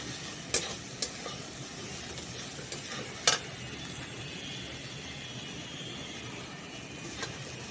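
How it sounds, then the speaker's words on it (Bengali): A spoon stirs flattened rice (poha) into turmeric in a pan, the soft steady frying hiss broken by a few sharp clinks of utensil on metal, quiet and close with no talking. "চিড়েটা আমি দিয়ে দেব এখানে আমি অল্প অল্প করে দেবো আর এইভাবে মেশাতে থাকবো"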